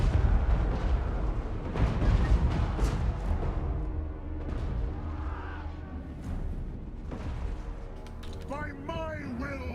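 Cannons firing in a Warhammer fantasy battle game with an Empire army, deep booming blasts and rumbling low thuds layered with mechanical creaks and battle noise, dense and continuous, with voices calling out late in the clip.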